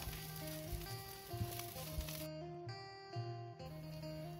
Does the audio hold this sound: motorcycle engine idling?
no